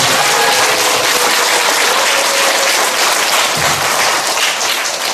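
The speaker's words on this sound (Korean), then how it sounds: "성부, 성자, 성령님께 크다란 환호와 감사의 박수" A church congregation at a Catholic charismatic renewal gathering bursts into sustained, loud applause and cheering, a dense unbroken wash of clapping from many hands.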